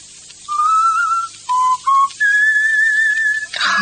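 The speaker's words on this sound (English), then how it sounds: "stop whistling that tune" Someone whistles a short tune alone: a few clear sustained notes, a brief pair of lower notes, then a long high held note.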